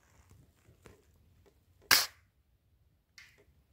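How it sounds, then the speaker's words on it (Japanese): An airsoft BB from a customized Tokyo Marui Walther MPL air-cocking gun striking a target 40 meters away at an outdoor range: one sharp, faint distant smack amid quiet, with a softer tap shortly after. "今当たった音がした"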